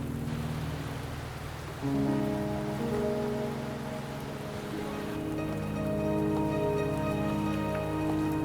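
Steady rain falls in the video game Wuthering Waves, a dense hiss of drops on surfaces running throughout beneath sustained tonal music, with no voices.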